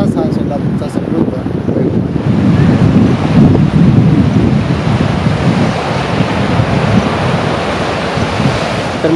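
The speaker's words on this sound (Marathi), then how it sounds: "तलाव भरलेलं पाणी हे समोरनं वाहत असलेलं आपल्याला दिसतं" Overflowing water from Ekruk (Hipparga) Lake in Solapur rushes past in a loud, steady wash that never lets up, with gusty wind buffeting the microphone throughout.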